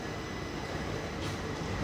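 WDP 4D diesel locomotive from Hubli Shed hauling a passenger train at Mangalore Central, heard as a steady, continuous rail rumble and rolling noise from inside the train, with no talking.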